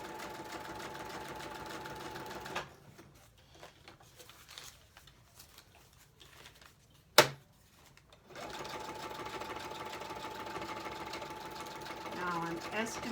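Sewing machine stitching through a paper bag journal, a steady close mechanical whirr that runs, stops for several seconds of near quiet broken by one sharp knock, then starts again and continues.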